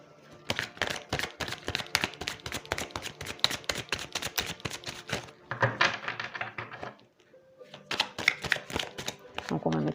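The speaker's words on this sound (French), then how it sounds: "Donc on va recouvrir les cartes que l'on a eues." Tarot cards being handled and laid down, a rapid run of crisp flicks and taps followed by shorter bursts of shuffling and placing, close and fairly loud, with a brief pause near the end.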